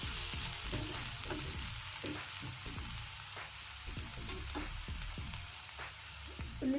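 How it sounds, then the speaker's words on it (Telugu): Onions fry in a pan over a medium flame, giving a continuous soft sizzle broken by repeated stirring scrapes and clatters, fairly quiet and without speech. "ఈ ఉల్లిపాయ అంతా కూడా బ్రౌన్ అయ్యే వరకు వేయించుకోవాలి."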